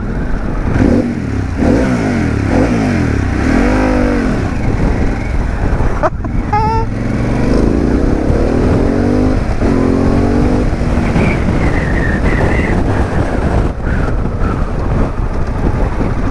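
A Harley-Davidson Pan America adventure motorcycle engine revs and shifts through gears while riding, loud and close, with strong wind noise buffeting the microphone throughout.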